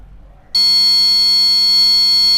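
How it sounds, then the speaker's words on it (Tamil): IoT temperature sensor alarm set off by heating past 30 degrees Celsius, a sudden loud continuous electronic tone that starts abruptly after a quiet moment and holds steady without pause. "இமீடியட்டாக அந்த அலாரம்ன்றது அடிக்க ஆரம்பிச்சிருச்சு"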